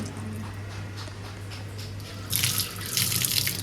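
Tap water running into a sink to rinse a drinking glass, a steady low rush that grows louder and splashier partway through as the glass goes under the stream.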